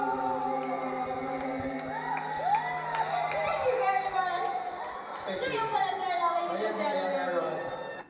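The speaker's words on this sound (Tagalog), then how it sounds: "Talagang hiyawan ng mga tao doon." A concert audience screams and cheers loudly and continuously, with voices rising and whooping in a dense roar while someone talks over it.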